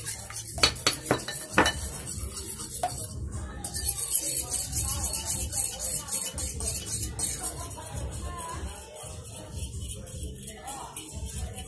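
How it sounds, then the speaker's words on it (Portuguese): Egg white and yolk are stirred together in a bowl with a utensil for a gluten-free tapioca pizza. A steady run of close metallic clinks and scraping knocks against the bowl, with a few sharper taps near the start. "É só misturar bem assim a clara e a gema."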